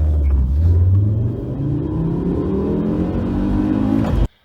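A five-cylinder engine in a cheap used car runs loud and close, a deep throbbing rumble that rises steadily in pitch as it revs up, then cuts off abruptly near the end.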